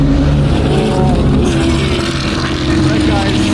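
A powerful engine roars loudly as a fast truck speeds past close by on sand dunes at Glamis, with a steady rumbling drone throughout.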